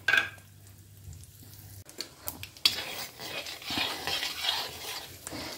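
Mustard seeds, chana dal and urad dal tempering in hot oil in a kadai for kalyana-style sambar give a soft sizzle, with spoon scrapes and metal clinks stirring the pan up close.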